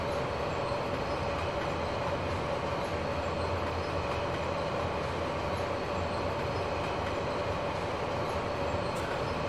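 A class 103 locomotive hauling an ICE train set rolls past in Train Simulator, giving a loud, steady rail roar with rolling wheel noise that lasts throughout.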